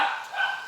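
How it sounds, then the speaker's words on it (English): A pet dog heard indoors in a kitchen gives a brief high-pitched yip or whine, close and fairly loud, lasting under a second. "And that's my dog, Rocky."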